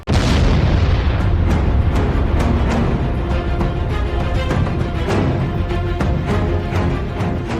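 A cluster bomb detonates with a loud, close boom, followed by a dense rolling rumble broken by repeated sharp secondary bursts and pops that continue to the end.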